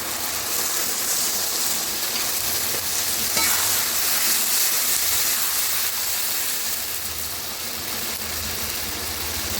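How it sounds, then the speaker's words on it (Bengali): Water from a spice bowl hits a hot pan and sizzles loudly and steadily, a continuous hissing fry that holds at close range for the whole stretch with no voices. "মশলার বাটির জলটা দিয়ে দেবো।"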